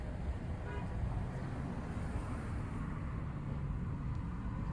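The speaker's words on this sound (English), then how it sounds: "we're just out live, driving around the strip" A car cruising along the Las Vegas Strip through traffic, with a steady, dense road rumble throughout and a brief faint horn toot near the start.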